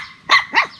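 A dog barks twice close by, two short sharp barks about a quarter second apart, with no talking over them.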